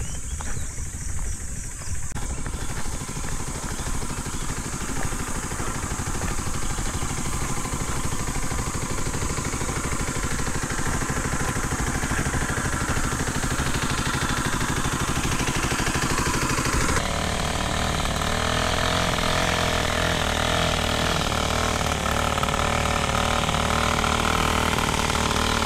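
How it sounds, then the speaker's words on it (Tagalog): A farm machine's engine runs continuously close by, uneven and sputtering in a rough, loud drone with no letup, while someone speaks briefly. "Urot-urot yung makina."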